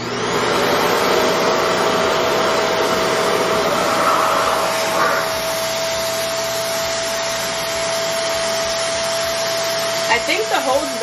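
A Revair hair dryer runs on its highest setting, 7, with no heat, blowing while thick, dense Type 4 hair is dried. The airflow is a loud, close, continuous roar with a steady whine, and a voice briefly breaks in near the end.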